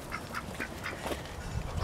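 Pet ducks in a backyard let out a run of rapid, repeated quacks, fairly close and moderately loud, over soft outdoor background noise.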